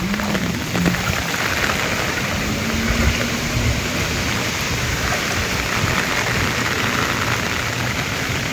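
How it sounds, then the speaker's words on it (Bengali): Heavy rain from Cyclone Remal pours down without letup, a dense, loud and even hiss close by, with faint low rumbles beneath it. "এখন বৃষ্টি নামছে"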